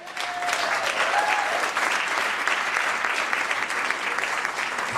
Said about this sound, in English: Please give a wonderful round of applause for this great city.